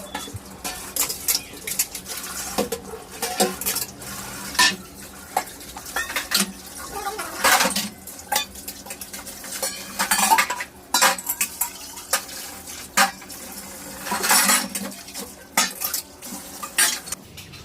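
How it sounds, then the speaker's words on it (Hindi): Dishes, pots and steel utensils being washed by hand in a home kitchen, with continuous clinking, scraping and clattering, occasional louder knocks and splashing water, close by. "मम्मी बर्तन धो रही हैं"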